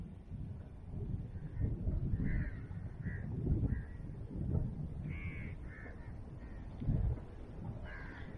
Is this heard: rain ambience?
no